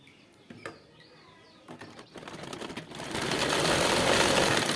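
A sewing machine stitches a pocket onto a trouser leg, beginning with a few scattered clicks and taps and then building into a steady, loud mechanical whir that runs continuously to the end.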